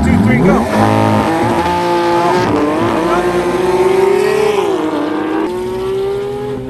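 Cars launching together at the start of a race against a Porsche GT3 RS, engines roaring loud and close with a steady rising and falling engine note that drops off near the end, under excited speech.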